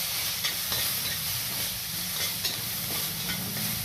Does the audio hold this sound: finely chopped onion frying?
yes